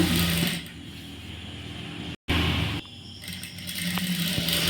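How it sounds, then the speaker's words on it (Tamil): A sewing machine stitches a blouse neck piece in short runs, its mechanical whir stopping and starting, with a momentary cut to silence midway. "கழுத்து பீஸை அப்படியே வச்சு தைக்கணும்"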